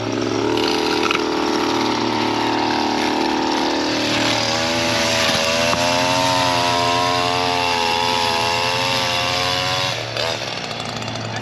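String trimmer engine runs loud and close, holding a steady high-pitched two-stroke whine that rises in pitch partway through and dips near the end, with no voices.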